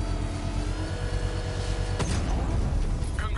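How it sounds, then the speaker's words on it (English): A bomb in Batman: Arkham Knight is detonated in a controlled explosion triggered with the power winch. A sharp broadband blast hits about two seconds in, over a steady rumbling game-engine drone that swells afterward. "I can use the power winch to trigger a controlled explosion."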